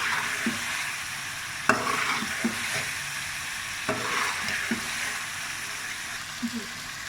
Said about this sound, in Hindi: अब मैं इसको भून रही हूँ, इसको तकरीबन मैं 5 से 6